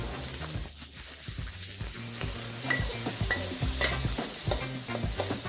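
Rice noodles with a splash of broth, shallots, tofu and salted radish stir-fried in a pan for pad Thai, with a steady, rhythmic scrape of the spatula over a continuous close sizzle.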